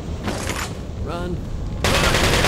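Gunfire in the video game Resident Evil 4 crackles as a burst of shots, rising into a louder, denser volley near the end, with game effects and background noise throughout.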